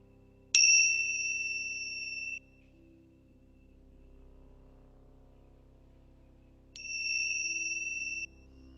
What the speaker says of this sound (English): At the sound of the bell, can you just come to this present moment?